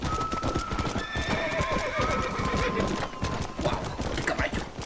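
In the Red Dead Redemption video game, a horse clops along with rapid, steady hoofbeats, and a high, wavering neigh rises over the galloping rhythm.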